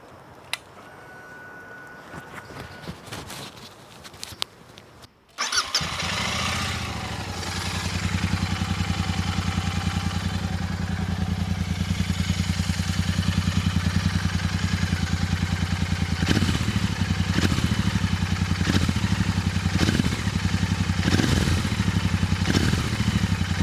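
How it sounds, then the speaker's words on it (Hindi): A Royal Enfield GT650 motorcycle with stock exhaust fires up after a few clicks, then settles into a loud, steady idle with several sharp revs of the throttle near the end. "चलिए अभी इसका एग्जॉस्ट नोट सुनाते हैं आपको।"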